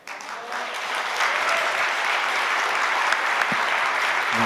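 An audience applauds at a formal gathering, a loud, dense wash of steady clapping that swells after the first second and continues evenly to the end, with no speech over it.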